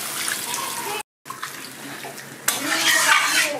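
Water poured into a pan of cooking jackfruit for a Bengali prawn dish, a continuous close splashing hiss that briefly cuts out, then resumes and swells louder toward the end.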